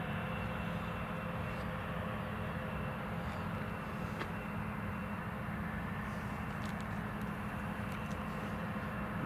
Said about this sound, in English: there is a British Airways on the approach